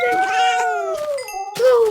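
A cat meows inside a video game, two drawn-out, wavering meows, loud and close, with a player talking over them.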